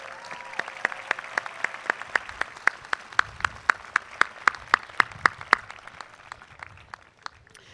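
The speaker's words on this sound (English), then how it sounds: "please, with a round of applause," Graduation-ceremony audience applause at Santa Monica College, with a steady run of crisp, evenly spaced claps standing out near the front before it thins and fades.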